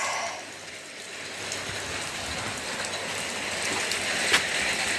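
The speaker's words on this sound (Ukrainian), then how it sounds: "У нас іде дощ." Steady rain falls, a dense even patter with a single sharper drip near the end; no voices.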